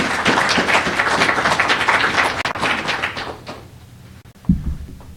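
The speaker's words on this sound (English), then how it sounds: "How about a big round of applause for John Beutner?" Audience applause for John Beutner, co-founder of Nutri-Sprout MicroFarms, at a pitch event. Dense clapping fills the first three seconds and then thins out, followed by a quiet gap and a thump.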